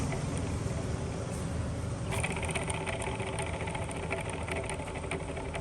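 Steady mechanical whine with a whirring hum from a worn alternator bearing on a running BMW engine, constant and close, with no talking.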